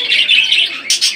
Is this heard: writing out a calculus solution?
no